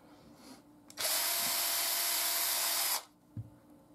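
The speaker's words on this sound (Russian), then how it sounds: "можно сверлить напрямую, насквозь" A power drill bores straight through leather for a knife sheath, a single loud steady whine lasting about two seconds with a sharp start and stop, then a faint knock afterward.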